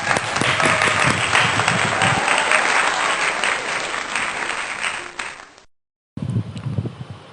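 A congregation claps during a Sunday church worship service, sustained dense applause that thins out, cuts to silence briefly, then resumes.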